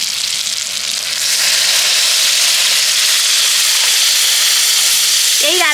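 Water hits hot fried spice paste in a pan, and a loud, steady hiss and sizzle rises and holds close up.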